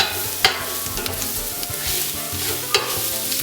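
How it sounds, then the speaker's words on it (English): Pork for Brazilian pulled pork sautés in a pan with a steady, loud broadband sizzle. A couple of sharp utensil knocks stand out against the continuous frying noise. "you saute your meat on the outside"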